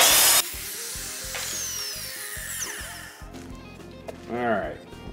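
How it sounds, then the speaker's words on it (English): Electric router cutting a groove along a wood edge while building a sliding barn door, a steady loud whine running for several seconds before winding down, with a voice briefly heard near the end. "going to make a bracket for my router that will allow me to run it alongside the edge of the wood and cut the groove that I want to cut"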